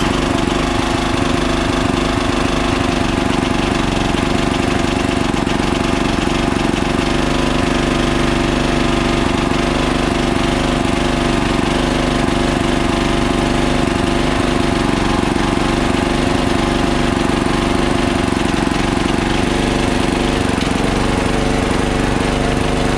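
A John Deere RX75 lawn tractor engine runs loud and steady after starting with the solenoid bypassed, a continuous close rumbling idle with no talk.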